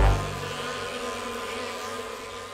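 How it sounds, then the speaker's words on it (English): Steady insect-like buzzing of cartoon bees in a children's animated show, a continuous droning hum that starts with a brief low thump and holds at a fairly even level, with no speech over it. "The bees are buzzing!"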